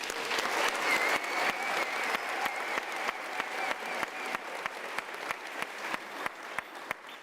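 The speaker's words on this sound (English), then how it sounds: "Can you give them a round of applause?" Audience applause for graduates at a university graduation ceremony, a steady, moderately loud wash of clapping that carries on without a break, with a few distinct sharp claps standing out on top.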